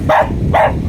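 Two quick, loud barks from a guard dog close by on a small backyard farm, evenly spaced, with no talking.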